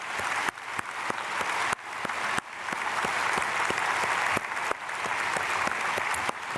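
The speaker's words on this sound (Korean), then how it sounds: "크게 박수로 축복하겠습니다" A church congregation at a Sunday service at Myungsung Church applauds in a large, echoing sanctuary: a sustained wash of many hands clapping, steady and full, with a few abrupt breaks between stretches.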